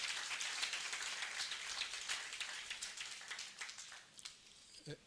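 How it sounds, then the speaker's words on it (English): Graduation ceremony audience applauding with steady, dense clapping that holds at an even level for several seconds, then thins toward the end with one last louder burst. "our founder deserves another round of applause."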